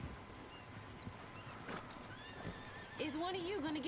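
In Red Dead Redemption 2, a horse gives a wavering neigh near the end, with hoofbeats and faint ambient sounds before it; someone speaks in the scene.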